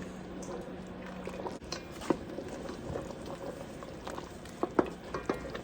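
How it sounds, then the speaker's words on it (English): Coffee jelly mixture churns at a rolling boil in a pot over high heat, with a steady bubbling roar and a few sharper pops and splutters near the end, with no voices. "And that is a rolling boil."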